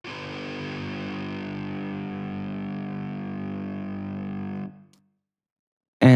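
A sustained, buzzing distorted tone on a neurofunk audio layer rings loud and steady for several seconds, then cuts off into silence before another harsh burst starts at the very end.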